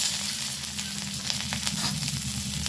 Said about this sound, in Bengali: ওই তেলের মধ্যে আমি জিরে ফোড়ন দিয়ে দিলাম, আর দিয়ে দিলাম তেজপাতা, আর চেরা কাঁচা লঙ্কা